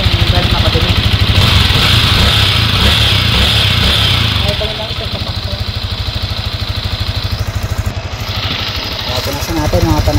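A Yamaha Sniper 155 motorcycle engine idles close by in neutral with a steady, rapid thrum that eases slightly in level partway through, while someone talks over it.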